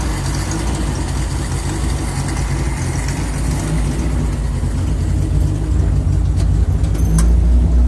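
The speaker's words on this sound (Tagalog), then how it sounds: "nag-iiba tunog ng makina" A car engine keeps running after the key is turned off and removed, with a steady low rumble and idle hum, loud and close, with no break in the drone.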